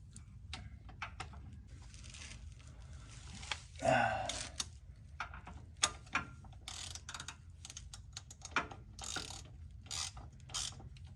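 A ratchet tightens a transmission bolt on a Polaris RZR with a run of quick close clicks and a sharper metallic clack midway, faint and intermittent under a quiet hum; someone talks briefly.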